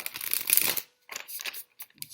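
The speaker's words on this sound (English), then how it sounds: "One last shuffle and then we're good to go." Brisk papery riffles of a card deck being shuffled, a long burst followed by a few shorter flicks, close and fairly quiet.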